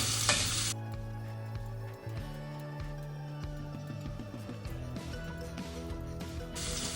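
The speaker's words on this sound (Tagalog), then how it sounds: "kumalma na si onion, hindi na masyado maingay" Onion sautés in a pan with a steady soft sizzle and occasional stirring scrapes, while faint background music plays underneath throughout.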